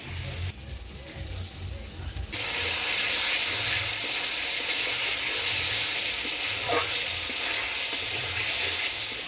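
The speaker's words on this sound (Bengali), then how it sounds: "এবারে অল্প জল দিয়ে আলু পটলটা ভালোভাবে কষিয়ে নিব।" Potato and pointed gourd frying in a pan with ground spice paste and a little water: a steady, close sizzle that rises louder after the first couple of seconds and holds, with faint stirring scrapes, no voices.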